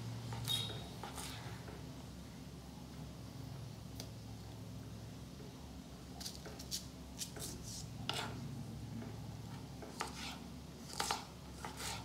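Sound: cutting green chillies with a knife

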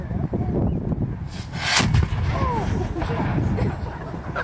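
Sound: cannon firing

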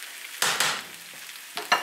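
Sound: Spam and potatoes frying in a pan

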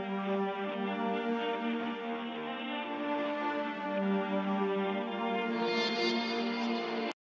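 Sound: ambient string section with granular synthesis, unprocessed

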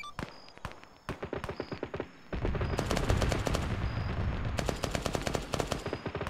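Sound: 30 mm cannon salvos firing in Arma 3 video game

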